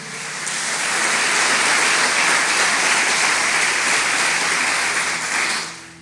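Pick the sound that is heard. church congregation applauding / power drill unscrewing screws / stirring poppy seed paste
church congregation applauding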